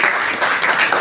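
Audience at a Vishwakarma Jayanti celebration applauding donors, dense steady clapping filling the whole moment at close range.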